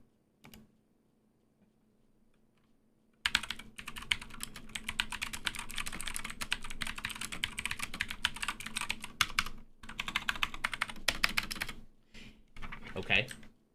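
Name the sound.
typing on a computer keyboard demonstration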